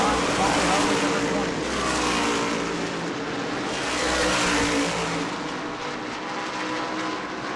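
Race cars roaring around the track at the New Smyrna World Series, a continuous blend of engines swelling and fading as cars pass, under a commentator's steady talk.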